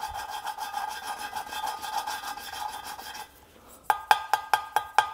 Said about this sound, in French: On entend le bruit quand je rôde la soupape, là, quand je tourne le rodoir